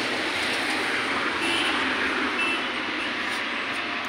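A 1500-watt motor on a new 2022 ANANT Lodhar electric rickshaw runs with a steady, fairly loud broadband whir and road rumble, holding an even level throughout with no talking.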